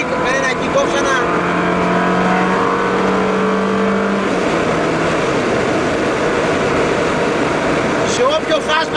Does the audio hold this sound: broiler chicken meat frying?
no